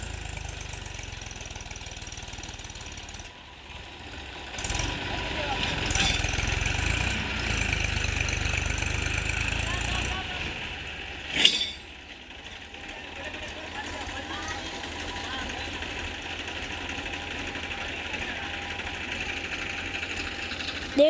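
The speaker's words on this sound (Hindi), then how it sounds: "दोनों ट्रैक्टर के जोर से ट्रॉली निकली है।" Two Farmtrac tractors run together under heavy load, straining to haul a stuck trolley, their engines droning steadily throughout with a sharp knock partway through, while people talk nearby.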